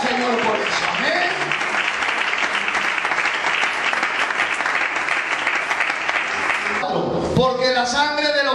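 A Spanish-speaking church congregation applauds during a sermon, dense steady clapping from many hands filling the room for several seconds before fading as a voice resumes speaking in Spanish.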